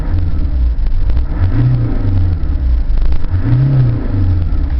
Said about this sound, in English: Give it a couple of revs.